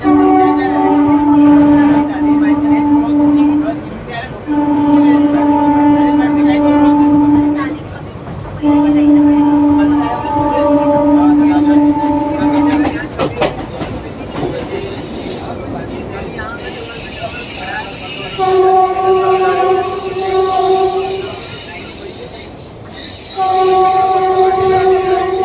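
Maharashtra Express running on a single-line section near Gondia, with a loud sustained horn sounding in repeated long blasts over the rumble of the moving train, and people talking at times.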